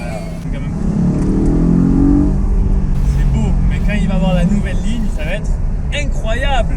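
Audi R8 engine droning and revving while driving slowly along a cliffside road, a loud low rumble rising and settling under people talking inside the car.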